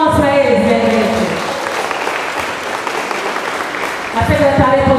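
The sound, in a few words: audience applause at karate event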